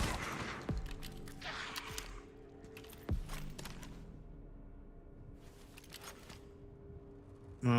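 Gunfire from shotgun and pistol in the Resident Evil 9 video game: a few sharp shots spaced apart, each with a falling ringing tail, over quiet game ambience.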